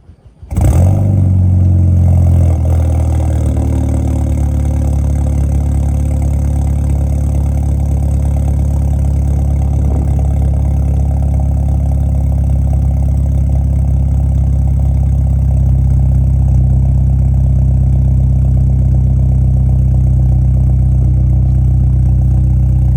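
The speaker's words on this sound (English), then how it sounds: "Not a super good cold start, but I haven't started in a couple days" A 2013 Volkswagen GTI Driver's Edition fires up from cold after sitting a couple of days, then settles into a loud, steady idle with a deep hum and light clatter, close by with no talking.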